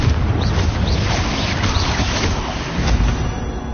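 A Confringo blasting spell in the video game Hogwarts Legacy erupts in a loud, dense, continuous roaring explosion that fills the whole stretch with heavy rumbling and crackle, with no talk over it.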